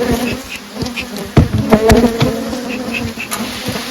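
Honeybees buzzing around an open hive during a swarm inspection, a dense, close hum with individual bees droning past, punctuated by a few wooden knocks and clicks from handling the boxes.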